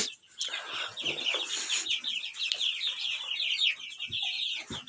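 Newly hatched chicks from an incubator chirp in a dense, continuous chorus of high peeping calls, close by, with a few soft rustles underneath.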